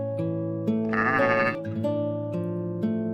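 Sheep-like bleating of a goat heard as a sound effect in a moral story about two goats meeting on a bridge, one wavering bleat of about half a second standing out over a steady musical backing.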